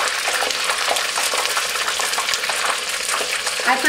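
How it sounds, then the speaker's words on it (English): Gluten-free beer-battered fish frying in very hot, splattering oil, giving a dense, steady sizzle and crackle that carries on without a break, loud and close, with no voices. "because this oil splatters so badly"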